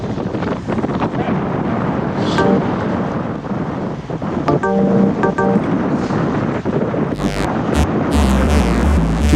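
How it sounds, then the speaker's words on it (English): Strong, steady wind roars and buffets against the microphone while cycling on the road, loud and continuous throughout, with no voices. "Listen to that wind."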